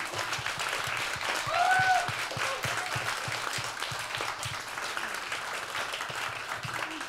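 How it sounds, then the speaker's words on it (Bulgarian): Steady applause from an audience at a novel launch fills the room, a dense wash of clapping with a brief high whistle-like tone near the start. "И нека сега да чуем вашите аплодисменти."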